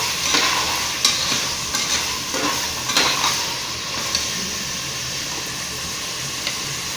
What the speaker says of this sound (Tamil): பச்சை அவரைக்கொட்டை நம்ம எடுத்து வச்சுருக்கோம். அதை சேர்த்திக்கலாம். நல்லா வணக்கி விட்டுக்கோங்க.